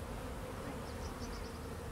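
Bees hum in a steady, continuous drone, a thick close buzz with a faint higher whine drifting through it and no voices.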